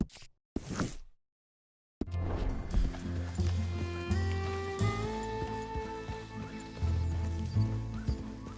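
Horse hooves pounding across open ground in the Western video game Red Dead Redemption 2, a steady rolling gallop rising after a brief pause, with a few short snorts near the start and a rider's voice in between.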